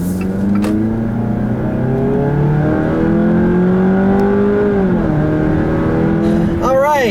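Engine hum from inside a moving 2017 Fiat 500X Trekking on a back road, pitch rising and falling as it accelerates and shifts, with steady road noise underneath; a voice talks over it.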